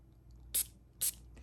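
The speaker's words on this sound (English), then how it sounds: "I'll spray it here again so you guys will see how nice the mist is on this" A perfume mist spray bottle gives two quick, close spritzes about half a second apart, each a short crisp hiss with near silence around them.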